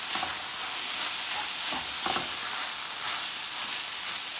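Fish and mixed ingredients fry in a pan for a Guyanese breakfast, a steady close sizzle and hiss with occasional stirring scrapes throughout.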